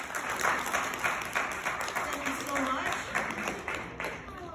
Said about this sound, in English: Everyone give him a round of applause.